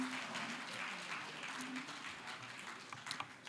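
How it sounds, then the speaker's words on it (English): Faint, distant audience applause at a safety conference hall in Lagos, a soft continuous patter of clapping for a few seconds with a couple of sharper claps near the end. "A round of applause for all the gallant officers once again."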